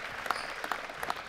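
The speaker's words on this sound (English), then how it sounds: "there's going to be a roar from the crowd surely after this." A crowd applauds after a long, physically heavy squash rally between Selby and Matthew at the 2014 British Grand Prix. The clapping is steady and fairly faint, as if heard from a distance, with no one speaking.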